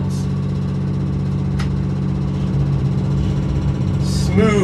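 Spud boat engines idle just after starting, a steady low rumble and throb, constant and close, as a voice speaks briefly at the end.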